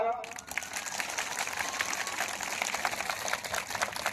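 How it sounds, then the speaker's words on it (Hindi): A crowd at an outdoor Bihar election campaign rally claps in welcome, a fairly steady patter of many hands heard from a moderate distance, with voices audible underneath. "तो एक बार यहाँ पर सब लोग अपन अपन ताली बजा के स्वागत करो।"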